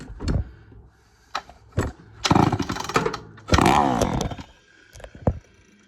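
Early Poulan 245A chainsaw engine sputtering to life: a few short pull-start bursts, then two longer loud rasping runs that die out, close up, with no talking.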